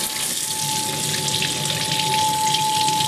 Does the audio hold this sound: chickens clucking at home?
no